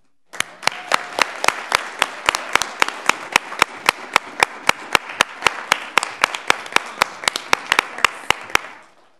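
Audience at a school district board of trustees meeting applauding: a rising burst of crowd clapping with a few sharp, loud individual claps spaced through it, sustained for several seconds, then fading out quickly.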